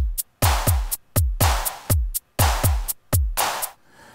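A JR Hexatone Pro drum machine plays a punchy looping pattern of kicks, snares and hi-hats at a steady tempo, loud and close, ending with a short fading tail.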